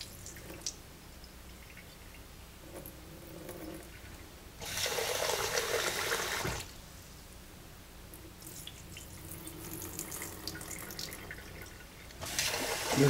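Rice being rinsed under a running tap until the starchy, cloudy water turns clear; steady trickling water broken by two louder bursts of gushing flow, with no talk.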